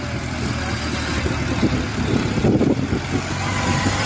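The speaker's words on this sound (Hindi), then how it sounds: "new Holland 4x4 tractor" A New Holland 3630 4WD tractor engine idling: a steady, low mid-range rumble held at an even level throughout, close by, with no talking.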